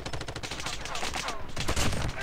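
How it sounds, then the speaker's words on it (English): Rapid automatic gunfire in Call of Duty Mobile, loud and nearly continuous bursts of shots stacked close together across the whole stretch. "Why are you shooting me?"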